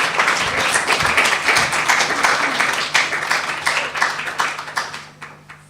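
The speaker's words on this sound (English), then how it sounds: "Let's give a big round of applause to Keishin." A young adults church service audience gives a round of applause, a dense, steady wash of clapping that carries for several seconds before thinning and tapering off near the end.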